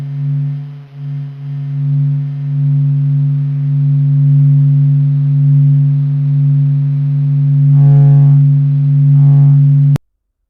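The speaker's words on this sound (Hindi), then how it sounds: "सभी रेडियो इमिशंस को साउंड वेव्स में बदलकर सूरज की आवाज हमारे कानों तक पहुंचाई" Sun's radio emissions, recorded by NASA and ESA and converted into sound waves, give a steady low droning hum with layered harmonic tones, brief fluttering bursts near the end, then a sudden cutoff.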